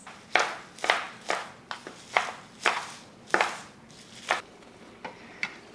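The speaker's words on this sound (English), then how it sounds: "So I'm just going to chop these up a little bit tiny pieces so they'll wilt down quickly in the" Knife chopping collard greens into tiny pieces on a cutting board, about a dozen crisp, close thwacks in an uneven rhythm, fairly quiet overall.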